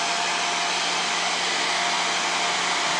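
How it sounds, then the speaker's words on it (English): A hair dryer runs continuously at a steady, loud, close roar while drying paint on a carved wooden Santa bust, with no voices and no change in pitch or level. "Okay, I'm going to take the hair dryer,"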